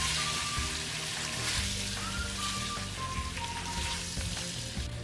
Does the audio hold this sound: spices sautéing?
yes